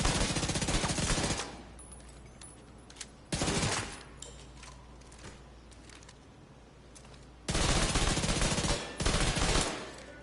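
Automatic rifle fire in The Division 2 comes in three sustained, loud bursts of rapid shots, with quieter gaps of game ambience between them.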